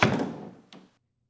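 A door thunks open with one solid knock, then a brief softer latch click follows before quiet, close and fairly faint.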